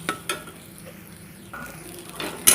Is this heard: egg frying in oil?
yes